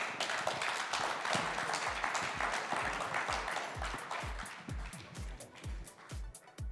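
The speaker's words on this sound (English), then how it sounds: "Let's give them a round of applause" An audience applauds a panel at a summit, with dense clapping from a crowd that gradually thins into individual, distinct hand claps near the microphone.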